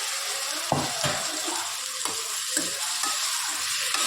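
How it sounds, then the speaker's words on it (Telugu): Cut potatoes being stirred into a curry in a pan, a steady sizzle of frying with a few distinct scraping stirs of the spoon against the pan, close and fairly loud. "కలుపుకున్న తర్వాత ఇప్పుడు మనం కట్ చేసిన పొటాటోస్ వేసుకోవాలి"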